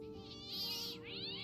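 A cat meows in the video game Fran Bow, a single drawn-out, rising-and-falling meow heard close and clear over a soft musical drone.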